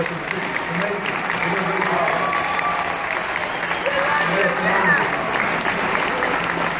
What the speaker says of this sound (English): let's have a round of applause for a company doing practice